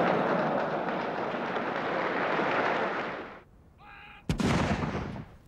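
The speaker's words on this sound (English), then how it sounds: "A 21-gun salute in Hyde Park to celebrate Prince Philip's 70th birthday" At a 21-gun artillery salute in Hyde Park for Prince Philip's 70th birthday, a loud, sustained roaring wash fades away, then a single sharp, heavy boom cracks out and rumbles on.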